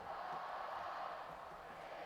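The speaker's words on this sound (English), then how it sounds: "This Beaver Stadium crowd is just living and living on a prayer here" Crowd roar from a packed Beaver Stadium at a Penn State home football game against Michigan, a steady dense wall of cheering voices at moderate distance, sustained and unbroken throughout.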